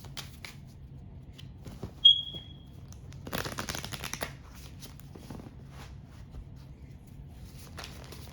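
A single brief burst of card shuffling, a quick papery riffle lasting about a second, in an otherwise quiet room with faint background hum.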